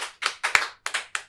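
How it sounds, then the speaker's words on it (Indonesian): Several sharp hand claps from a small group at an Indonesian talk event, spaced in uneven bursts, close and distinct with silence between them. "Luar biasa, tepuk tangan teman-teman."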